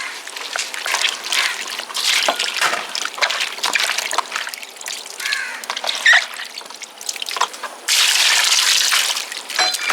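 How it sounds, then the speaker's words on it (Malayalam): Water trickling and splashing as it is poured over grapes in a bowl to wash them, with turmeric and salt added, during homemade Christmas grape wine preparation; steady close pouring, splashing more strongly near the end. "കുറച്ച് വെള്ളം ഒഴിക്കാം കേട്ടോ"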